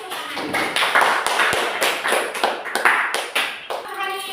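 Classroom applause for the winners of a lesson activity, with a room of students clapping in a dense, uneven burst of taps that carries on for several seconds at a fairly strong level.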